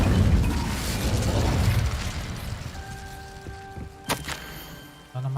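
A fiery Incendio spell blast in a video game, a loud roaring whoosh with burning crackle that fades into mechanical clanks, a ringing tone and a sharp thunk.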